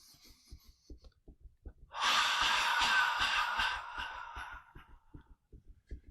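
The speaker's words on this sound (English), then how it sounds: "Get into that deep breathing." A deep breathing exercise: one long, loud breath that rushes out for about two seconds and then fades, framed by soft rhythmic thumps before and after, close, with no talk.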